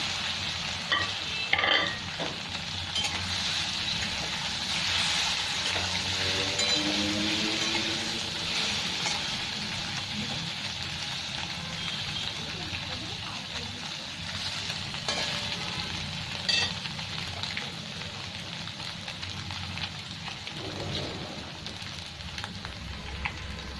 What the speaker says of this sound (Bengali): সবগুলো ডিম এরকম করে ভেজে নিচ্ছি।